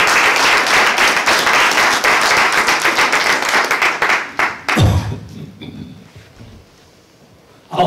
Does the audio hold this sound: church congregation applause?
yes